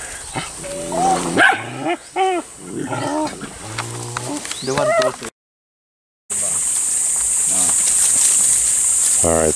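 A dog barks beside a tilapia pond while a net cage is being set up, several loud, close barks mixed with a voice, followed by steady outdoor noise.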